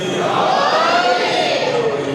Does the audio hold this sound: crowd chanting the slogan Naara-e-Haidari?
yes